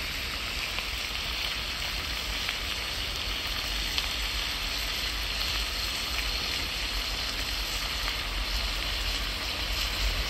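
Ginger, garlic and green chilli paste sizzles steadily in a hot pan for a village-style chicken nihari, a dense continuous frying hiss with no voices.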